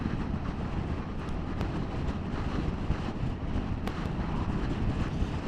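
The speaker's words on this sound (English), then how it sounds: "it's a little bit windy" Steady low rumbling wind buffets the microphone outdoors, a constant broad roar with no voices.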